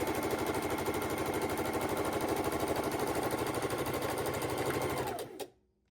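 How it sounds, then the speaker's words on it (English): A sewing machine runs steadily for about five seconds, stitching a quarter-inch seam through two folded pieces of quilting fabric for half square triangles, with a rapid even needle rhythm, close and loud, then stopping abruptly. "And sew my 1/4 inch."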